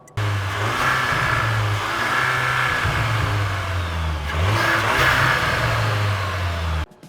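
VW MK8 GTI engine fitted with an aftermarket air intake revs steadily and loudly, climbing and falling twice over several seconds, with a deep throaty drone and intake whoosh, no talking.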